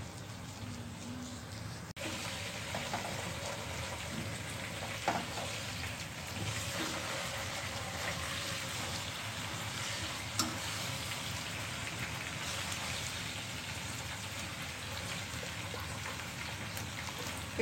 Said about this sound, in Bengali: চিকেনটাকে চারপাশে ঝলসে নিতে হবে বা পুড়িয়ে নিতে হবে।